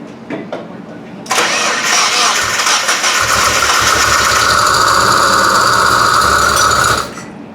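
A Mazda Miata engine cranks briefly, catches and settles into a loud, steady idle close by, then cuts off abruptly near the end.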